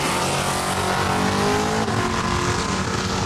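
Drag race cars, a '69 Chevelle and a Duster, roaring down the strip at Saskatchewan International Raceway, a loud continuous engine blare with no pauses throughout.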